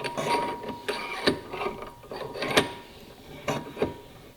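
Wilton 4x10 pivot-jaw woodworker's bench vise being loosened and tightened, giving quiet mechanical clicks and ratcheting scrapes with a few sharper metallic clacks at irregular intervals, close by.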